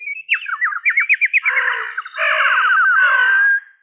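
A human voice imitates birds singing and crying, trilling in quick warbled runs and then a long rolling whistle, loud and close on an old 1920 recording with no other sounds.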